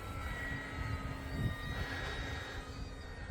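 An E-flite Focke-Wulf Fw 190A 1.5m RC model warplane flying at full throttle after takeoff, a steady faint electric motor and propeller drone heard from a distance, without talk.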